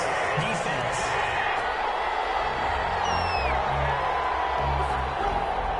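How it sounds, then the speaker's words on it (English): A stadium crowd in a PS4 American football game roars and boos after a flag on third down, a broad continuous swell of noise beneath a commentator speaking over it. "Well, the crowd doesn't like that."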